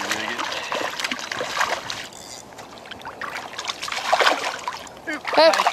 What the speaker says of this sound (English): Hey, don't splash my lens, Mr. Redfish.